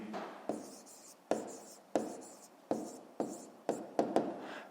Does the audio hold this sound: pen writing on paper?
yes